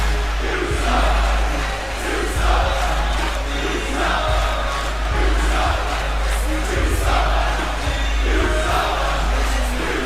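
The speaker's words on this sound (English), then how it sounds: "And the crowd is not happy about it." A large arena wrestling crowd in WWE 2K roars continuously with loud, dense, restless murmuring and shouting that swells and dips, with deep rhythmic thumps underneath.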